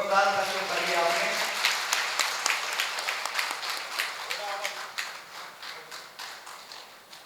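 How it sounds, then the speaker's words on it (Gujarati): A Bhagavat Katha audience in Varanasi breaks into applause, a dense burst of clapping that thins into scattered, rhythmic claps fading over several seconds. "જોરદાર તાળીઓ પાડીએ આપણે."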